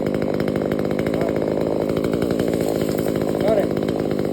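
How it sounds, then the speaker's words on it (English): A chainsaw runs loud and close, its engine snarling in a steady, rapid rattle as it cuts, with a voice briefly heard over it. "Get my chainsaw, cut it."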